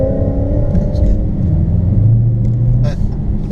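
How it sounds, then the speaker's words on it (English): A Ford Mustang engine rumbles loudly and steadily while driving, with a rising rev partway through and a voice talking over it. "It's a good sounding Mustang."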